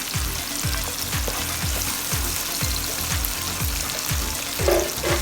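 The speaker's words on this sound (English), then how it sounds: "So the onion has fried for like 2 to 3 minutes now, and it has reduced its own juice" Onion frying in a pan, softened and cooked down in its own juice, hisses steadily up close while a utensil taps and stirs in a regular rhythm.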